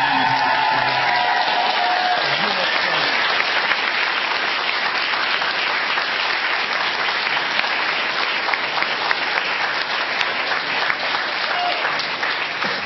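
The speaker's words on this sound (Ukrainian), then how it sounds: "Спасибо, спасибо за аплодисменты." A studio audience at a television show breaks into loud, sustained applause, a dense even wash of clapping that fills the whole stretch with a few cheers mixed in early on.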